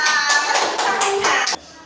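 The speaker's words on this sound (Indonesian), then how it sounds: "Tepuk tangan luar biasa." Schoolchildren in a classroom clap together in a rhythmic patterned cheer. Sharp, loud bursts of clapping repeat in quick succession and then cut off abruptly.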